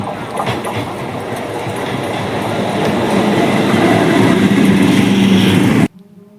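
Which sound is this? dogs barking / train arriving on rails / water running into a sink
train arriving on rails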